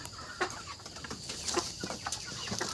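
Black Koyla-breed chickens cluck in short, scattered bursts nearby, with a soft background hum and no talking.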